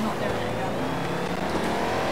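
A Dodge Hellcat in the Forza Horizon 4 racing game drones at high revs throughout, a dense, steady engine roar with a hint of tire noise.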